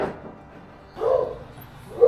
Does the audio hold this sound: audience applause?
no